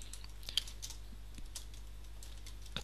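Light keystrokes on a computer keyboard, scattered soft taps at an irregular pace, faint against a low steady hum, with no voices.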